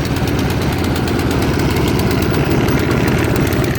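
A Craftsman snowblower engine runs steadily after start-up with the choke off at full throttle, a loud, close, rough idle that chugs and rattles continuously with no talk over it.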